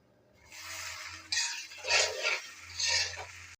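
A spoon scrapes and clinks in a pan as pasta with chopped capsicum is stirred, with several short bursts of scraping close up and no talking.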